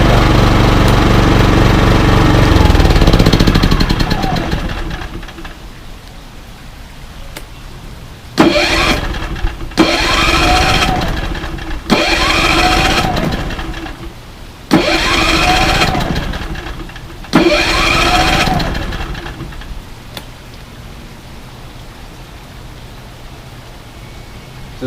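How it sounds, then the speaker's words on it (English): Portable RV generator: the engine runs loudly at first, then falls quiet, and a series of pull-start attempts follows, each a short roaring burst, before it catches and settles into a steady running drone. "Go ahead and shut it off, start it back up."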